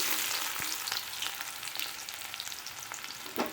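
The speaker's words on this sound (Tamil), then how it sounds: "வெங்காயம் கொஞ்சம் நல்லா வதங்கட்டும்." Onions sizzling steadily in hot oil with urad dal and cumin, a dense continuous fry hiss with a few brief crackles and a soft stir near the end, close and alone.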